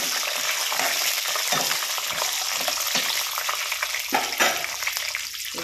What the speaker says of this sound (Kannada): ಸ್ವಲ್ಪ ಹೀಗೆ ಫ್ರೈ ಮಾಡ್ಕೊಳ್ಳೋಣ.